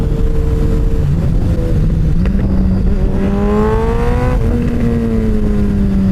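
A loud, close Suzuki Hayabusa motorcycle engine drones steadily through a new double exhaust, its pitch climbing and shifting as it revs with a throaty, layered exhaust tone.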